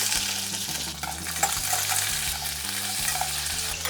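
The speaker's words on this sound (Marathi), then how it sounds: "थोडेसे कांदे परतून घेऊयात" Onions sautéing in hot oil with mustard seeds and chillies for kande bhat, onion rice: a steady, close sizzle and frying crackle with stirring scrapes, continuous throughout, over a low steady hum.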